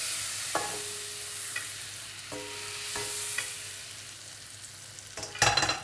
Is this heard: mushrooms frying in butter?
yes